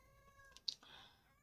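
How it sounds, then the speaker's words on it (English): A female cat in heat lets out a single short, faint meow, rising sharply and then trailing off, with quiet background hum around it. "and that's a cat. She's in heat."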